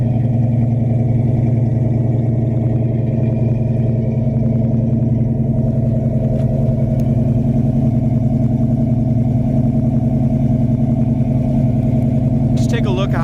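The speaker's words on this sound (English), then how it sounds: "It's got the nice dual exhaust coming out the back." A 1971 Dodge Dart with a Hemi engine and dual exhaust idles steadily and close by with a deep, even rumble, while a person talks over it.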